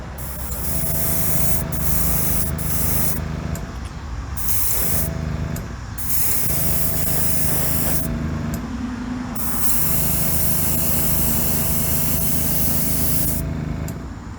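A pink spray paint is misted onto a Hot Wheels 1971 Datsun 510 die-cast car, making loud close hissing bursts of a few seconds each, separated by short pauses, over a faint steady hum.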